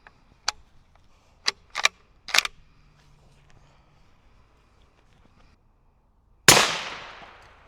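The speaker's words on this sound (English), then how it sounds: "we're moving up to 300 Win Mag," A single 300 Win Mag rifle shot with a soft-tip bullet cracks out loud and sharp, then decays in a rolling echo after a stretch of quiet broken by a few small ticks and clicks.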